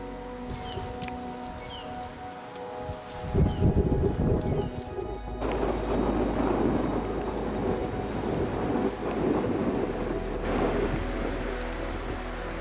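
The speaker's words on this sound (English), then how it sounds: "Snow squalls, high winds, and freezing rain coat everything in a thick layer of ice." High winds roar over a frozen lake in late March with freezing rain, the gusts loud and steady, swelling and buffeting the microphone.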